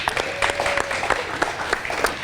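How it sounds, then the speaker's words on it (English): Audience applause for an honoree at a salute ceremony for a parole specialist: a short burst of mixed clapping with a few distinct hand claps popping through, and faint voices underneath. "Let's give him a round of applause here."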